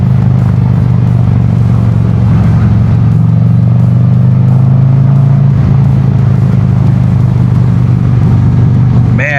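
A 2023.5-or-later Harley-Davidson Road Glide fitted with a Thrashin Supply bar and risers, heard while riding: a loud, steady low engine drone with wind rush, close and constant.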